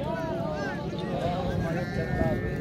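Goats bleat in rising and falling cries at a busy livestock market in Muhammad Pur, a crowd murmuring steadily beneath them and voices talking throughout.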